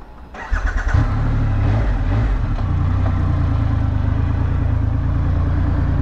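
A Triumph Rocket motorcycle engine cranks and fires up, then settles into a loud, steady idle with a few rev bursts, close and alone.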